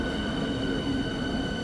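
A Berlin S-Bahn train rumbles at the station in a continuous low roar with a steady hum, fairly close and alone.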